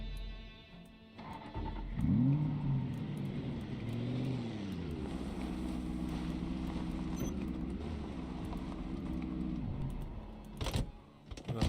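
Car engine in the Project Zomboid zombie survival game starts and revs up, then holds a steady, loud drone for several seconds before cutting off, with a clunk at the end.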